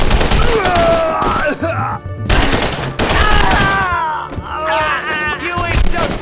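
Gunfire bursts in The Punisher on PS2 during a funeral home level, loud and repeated in quick fusillades, mixed with game voices shouting over the shooting.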